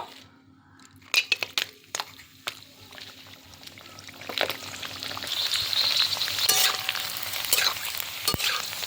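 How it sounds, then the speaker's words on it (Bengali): Fuchka puris fry in a small amount of oil with a soft, steady sizzle that grows louder. Sharp clinks and scrapes from stirring and handling the pan punctuate it. "দেখতে পাচ্ছ কি সুন্দর ভেজে নিচ্ছি"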